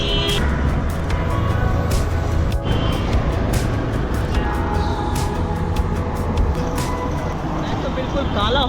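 Busy street traffic in Dhaka, Bangladesh, with engines and rumbling vehicles and several sharp horn honks, loud and continuous, under someone talking throughout.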